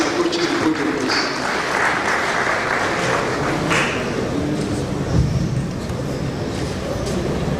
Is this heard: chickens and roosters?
no